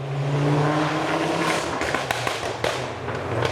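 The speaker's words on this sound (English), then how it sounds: "Oh, someone's leaving in a Focus ST." A Ford Focus ST pulls away with a steady engine drone that fades out. Sharp pops and clatters follow close by, with no speech.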